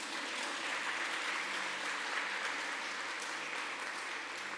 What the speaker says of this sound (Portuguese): vamos dar uma salva de palmas para nossas 2 irmãs que foram as ousadas